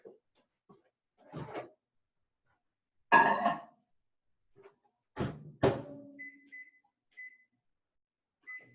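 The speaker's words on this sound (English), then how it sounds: "it's 1 minute and 20 seconds in the microwave" Microwave oven heating a chocolate paleo mug cake: a few dull clunks and thumps, like the door and the turntable, followed by a series of short, high electronic beeps in a quiet kitchen.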